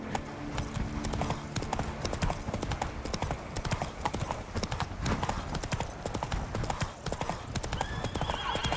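Roach the horse gallops in The Witcher 3, a steady, close clip-clop of hooves running continuously under a busy game soundscape.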